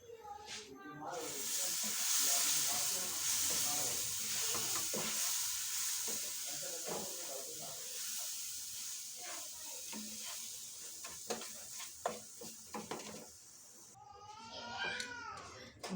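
A semolina laddu mixture with sugar and milk is stirred in a hot pan, giving a steady sizzle and hiss with soft scraping strokes. Quiet speech appears near the end.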